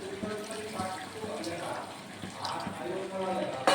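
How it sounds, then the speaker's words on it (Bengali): Water poured from a bowl into a simmering fish curry, a soft running splash of liquid that continues under a voice talking nearby. "এই যে আগের শস্যের বাটিটা দিয়া জলটা দিলাম, তারপরে আরও কিছু একটু জল দিলাম।"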